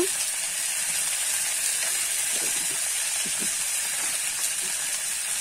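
Turmeric and salt sizzle in hot oil in a pan for a fish curry, a steady close frying hiss with a few soft scrapes as the mix is stirred.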